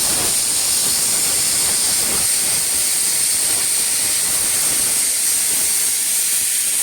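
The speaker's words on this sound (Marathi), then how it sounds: "आता हे आपण तेल तापत ठेवलंय" Oil heats in a pan over a gas flame, giving a loud, steady hiss that holds unbroken from start to finish with no other sounds.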